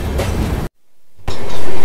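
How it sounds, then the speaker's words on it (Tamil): Trivandrum Rajdhani Express running on rails, a loud, steady roar of wheels and carriages that cuts out briefly and then returns as loud as before. "லோக்கல் ட்ரெயின், நம்ம ட்ரெயின்."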